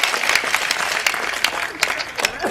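Listeners at a Hindi comic poetry gathering clap in a short, close burst of applause, dense and crackling with a few louder individual claps standing out.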